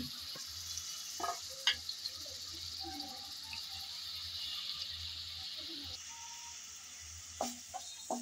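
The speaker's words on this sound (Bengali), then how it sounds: "আজকের রান্নাটা করব আমি চিংড়ি ভাজার তেলে, তাই সেই গরম তেলে দিয়ে দিলাম পেঁয়াজ কুচি আর রসুন কুচি।" Chopped onion and garlic frying in hot oil left from frying prawns, a steady sizzle running throughout with a few light clicks of stirring.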